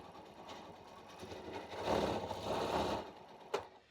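A Janome M8 sewing machine stitches at a moderate pace, giving a soft mechanical whir and rhythmic chatter that builds slightly in the middle, then ends with a brief sharp click.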